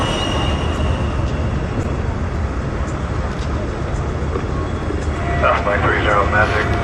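A Douglas DC-3 in Air France colors taxiing back to parking at an air show, a steady low engine drone running throughout, with a commentator talking over it.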